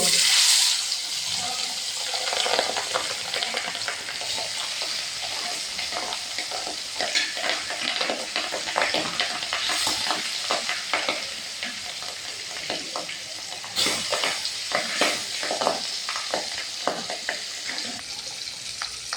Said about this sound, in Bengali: খুব তেল পাঙ্গাস মাছে কিন্তু ফটফট বড় করে তেল ফুটছে